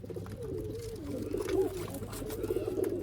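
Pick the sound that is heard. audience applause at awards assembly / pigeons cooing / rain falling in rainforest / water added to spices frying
pigeons cooing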